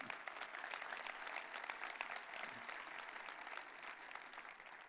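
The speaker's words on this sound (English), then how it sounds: "Okay, a big round of applause." Audience applause at a hacker security conference talk, steady clapping from a crowd filling the hall, sustained and fairly even without a break.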